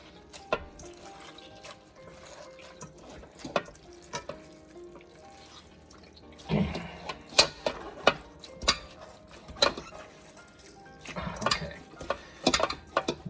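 Whey drips and splashes as homemade mozzarella curd is squeezed by hand over a pot, with faint irregular drips at first and then a busier run of wet patters and trickles, close by.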